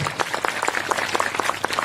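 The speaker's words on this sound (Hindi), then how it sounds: "एक बार तालियां हो जाए इनके लिए।" Applause from a crowd gathered at a religious darbar gathering, steady clapping of moderate volume that fills the whole stretch, with no voices over it.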